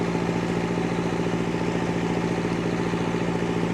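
A diesel generator motor on a rescue truck runs at a steady, even idle, producing a loud, continuous low hum with a slight rhythmic throb and no voices.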